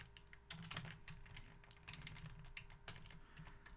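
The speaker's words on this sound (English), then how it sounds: "I apologize if my keyboard or mouse gets picked up in the microphone" Rapid, close clicking of keys on a computer keyboard, with irregular bursts of keystrokes continuing steadily and no voice.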